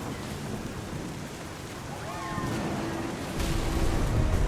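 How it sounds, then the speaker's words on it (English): Thunder rumbles through a storm in the game What Remains of Edith Finch, a low rolling boom building beneath steady heavy rain, growing louder toward the end. "The thunder sounded much too close and full of angry power."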